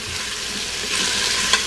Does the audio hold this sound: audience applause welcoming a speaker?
no